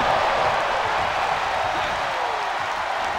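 A capacity wrestling arena crowd roars and cheers steadily during a WWE Monday Night Raw match, a dense, continuous wash of noise with no break.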